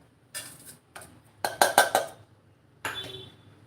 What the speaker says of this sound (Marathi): आता आपण हे छान मिक्सरच्या बाउलमध्ये काढून घेऊया